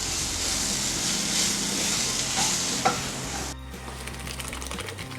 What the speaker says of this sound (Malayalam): അപ്പം നന്നായിട്ടൊന്ന് ഇളക്കട്ടെ.